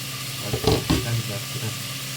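Tomatoes sautéing in a pan give a steady close hiss and sizzle, with a brief burst of speech partway through.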